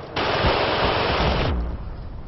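A tank in a first-person shooter on a Panama Canal map lets off a loud, dense burst of fire lasting just over a second, followed by a fading rumbling tail.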